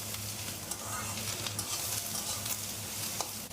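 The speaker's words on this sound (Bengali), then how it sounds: "সবজি ভাজা হয়ে গেছে" Vegetables with five green chillies fry in a pan for street-style spicy Maggi, giving a close, continuous sizzle with soft scraping stirs.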